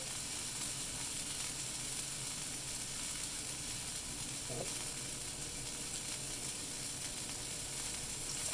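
Burger patties frying in a pan give a steady, even hiss and crackle that continues throughout at moderate level, with no voices.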